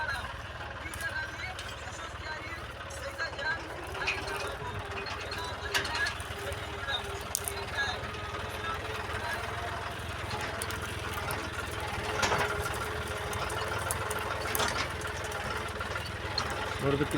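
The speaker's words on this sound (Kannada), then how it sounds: "ಟ್ರ್ಯಾಕ್ಟರ್ ಮಾತ್ರ ಬಾಡಿಗೆ ತಂದು ನಾನು ಹುಡ್ಸ್ತಾ ಇದ್ದೀನಿ" A rented tractor plows farmland with a steady engine drone, clanking mechanical rattles and irregular knocks, close and continuous, while someone talks over it.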